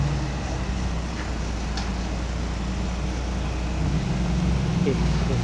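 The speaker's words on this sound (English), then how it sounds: "Traffic jam in a small town." Stop-start traffic jam in a small town in Nigel, South Africa: a steady rumble of idling car and truck engines fills the street, continuous and fairly loud throughout.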